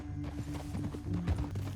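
Rapid clip-clop of horse hooves trotting in the video game Red Dead Redemption 2, close and rhythmic, with a low steady hum of background music beneath.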